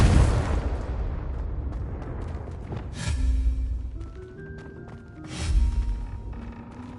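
A Confringo spell explodes in a PS4 video game, with two loud, booming bursts a couple of seconds apart, each swelling and fading over a rumbling background with faint musical tones.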